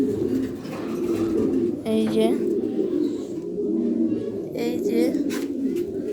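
Pigeons coo in a loft of fancy birds, their low, steady warbling running continuously beneath a man's repeated spoken calls.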